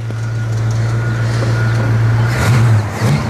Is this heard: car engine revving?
yes